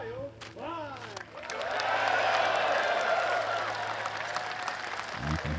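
A hometown crowd at a professional disc golf tournament bursts into applause and cheering, swelling after a moment and holding loud and sustained, with a commentator's voice speaking over the start.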